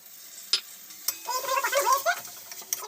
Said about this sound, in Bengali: এই মিনিট 10 মতন মশলাটাকে আমি কষিয়ে নেব